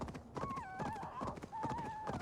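Hoofbeats of a horse in the Assassin's Creed video game, a steady clip-clop with whinnying tones rising over it, close and fairly loud, with no talking.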